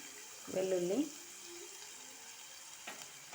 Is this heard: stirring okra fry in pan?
yes